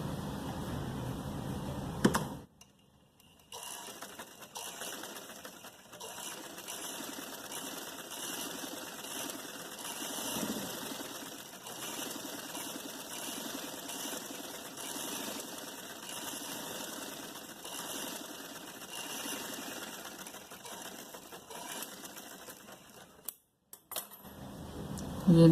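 Steady whirring of a sewing machine stitching along the edge of a narrow salwar leg, running continuously at an even pace, close up, with brief stops near the start and end.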